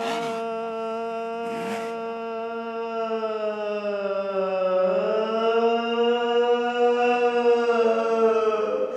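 A voice imitates a tornado or air raid siren, a long sustained wail that slowly dips and then rises in pitch, loud and close, with a brief breath at the start.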